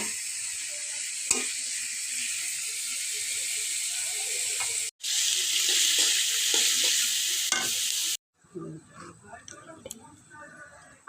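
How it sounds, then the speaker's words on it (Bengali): Radish and eggplant frying in a pan until brown, giving a loud, steady hiss with stirring clatter, cutting off twice, and then quieter scraping and clinking. "বাদামি কালার করে ভেজে নিব।"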